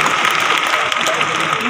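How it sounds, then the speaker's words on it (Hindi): Audience at a business training event claps loudly and steadily, a dense continuous wash of applause that fills the whole stretch without pause. "जोरदार ताली बजाओ"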